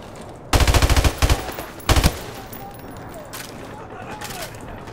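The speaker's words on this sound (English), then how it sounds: "I was surprised this M16 was full auto, not a burst" An M16 fires full auto in Modern Warfare Remastered, two or three short rattling bursts up close against a quiet game background.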